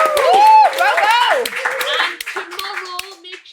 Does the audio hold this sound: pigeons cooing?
no